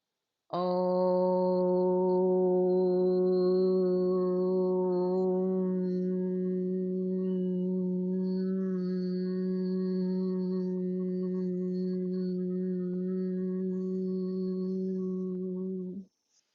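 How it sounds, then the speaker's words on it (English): A group hums and chants om together in a sustained, overlapping drone, voices held steady and continuous for the whole stretch without a break, close and full. "If you get tired, if you don't feel like humming or oming, just listen."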